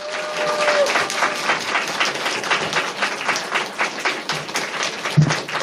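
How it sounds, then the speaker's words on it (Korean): A church congregation claps for a guest at a family puppet-show service, dense and lively with faint voices mixed in, fading slightly toward the end. "제가 부를 때 여러분 박수를 쳐주셔야 되는데"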